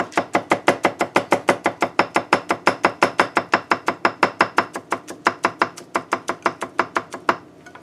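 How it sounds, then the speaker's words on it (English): A knife finely chopping fresh garlic cloves on a board, a steady fast run of about forty crisp, evenly spaced strikes, close and loud, with no talking. "So just going to basically take it and we do fine chop."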